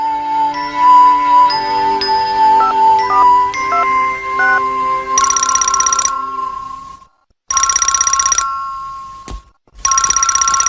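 A telephone in a Doraemon cartoon rings loudly in repeated electronic bursts with short pauses between them, following a brief melodic jingle at the start.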